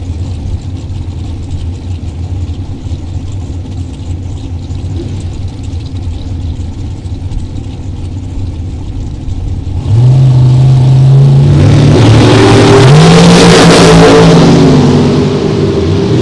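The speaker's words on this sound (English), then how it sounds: "Big block Chevy powered dragster over the left side." A big block Chevy powered dragster at a drag race idles with a steady loud drone, then launches into a roaring, rising rev that swells and climbs in pitch before easing off, heard from trackside.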